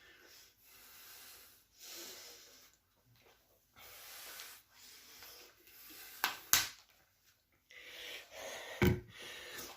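Someone out of breath after a home exercise workout takes heavy, close breaths in irregular bursts with short pauses between them, and a couple of sharper gasps or snorts near the end.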